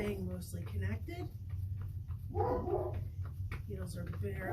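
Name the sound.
dog barking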